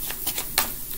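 Tarot cards shuffle in a short burst, several quick riffling flicks and soft slaps close by, with no voices.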